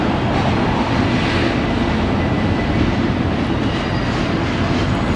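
A very long freight train rolls through the Spiral Tunnel in Yoho National Park, British Columbia, making a continuous, heavy rumble and roar of wheels and cars, steady and fairly close, with no talking.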